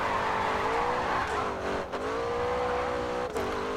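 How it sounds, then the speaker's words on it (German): A race car drifts in GRID 2, its engine droning loudly and steadily while tires squeal through the slide, with brief dips and shifts in pitch as the throttle is worked. "Ganz ruhig rumdriften."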